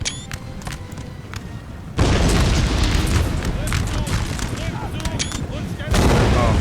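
Massed infantry volleys and 5-pounder howitzer fire in a Napoleon: Total War battle make a loud, dense roar of booms and crackling musketry, with heavier bursts striking around two seconds in and again near the end.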